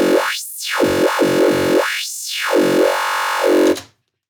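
Behringer Model D FM synth patch run through a digital 24 dB-per-octave high-pass filter, giving a buzzy harmonic tone whose brightness sweeps up and down in several swells before cutting off abruptly near the end, with no voices.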